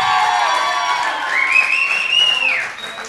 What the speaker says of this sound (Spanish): Aplausos para Carolina Perpetua,